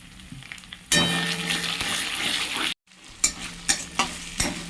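Ground spice paste hits hot oil with bay leaves and whole garam masala for a mung and pea kofta curry, bursting into a loud steady sizzle, then continuing with repeated stirring scrapes and crackles.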